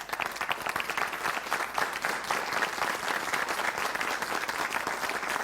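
A crowd applauds during a live Argentine political broadcast, a steady, bright roar of many hands clapping that holds at an even level throughout with no speech.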